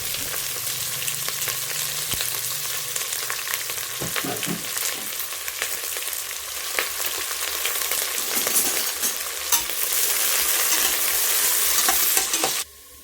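Onions with ginger garlic paste sautéing in a pan for mushroom biryani: a steady close sizzle with scraping stirring strokes that grows louder toward the end, with no voices.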